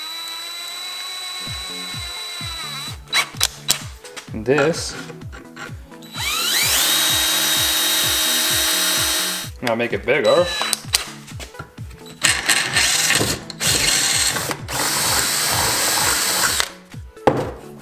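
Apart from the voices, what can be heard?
drilling a hole in a metal bracket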